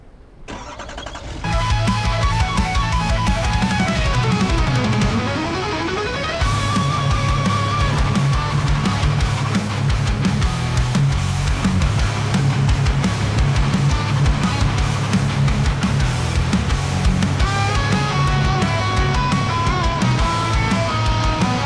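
A truck engine cranks and starts in Farming Simulator 25, then settles into a loud steady running drone as the truck drives off, with gear and revving shifts along the way and no talking.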